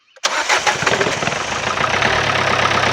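An old diesel car engine cranks and catches, then settles into a loud rough idle with a rapid rhythmic knocking tapping through it.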